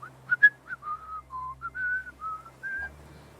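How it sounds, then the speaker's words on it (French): Someone whistles a soft, wandering little tune of short notes, quiet and close, alone. "tu entends donc des pas s'approcher et un petit sifflotement"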